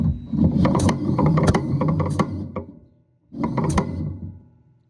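Metallic clanking and ratcheting from a 1949 Gravely Model L engine being turned over by hand with no spark plug fitted, two close rhythmic bursts of clunks separated by a brief pause.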